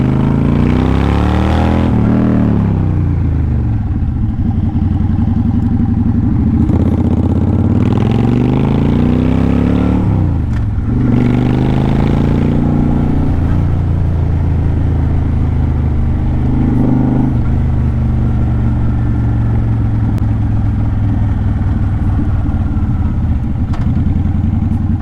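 A Honda Shadow 750 Phantom motorcycle rumbles loudly and close while being ridden, its engine note rising and falling through repeated revs and gear changes over a continuous low throb.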